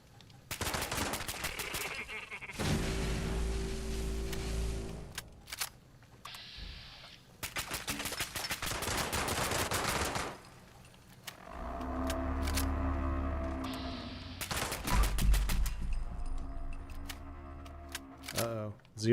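Automatic weapons fire in bursts during a Brotherhood of Steel quest in Fallout 76, with long rattling volleys broken by pauses, close and loud, while a voice talks in between.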